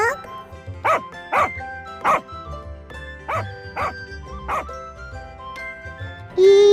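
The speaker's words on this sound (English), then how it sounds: "D for dog." A dog gives a string of short barks and yips over music in a children's alphabet song, evenly spaced and close, ending with a longer whine.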